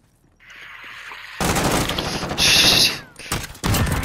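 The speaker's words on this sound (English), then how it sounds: "we're being sniped at?" Gunfire in Modern Warfare, sharp loud cracks and mechanical clatter following a low hum, with a brief bright burst and a final shot near the end.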